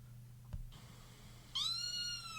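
A cat meows once, close and clear, rising then falling in pitch, after a short bump and low steady hum.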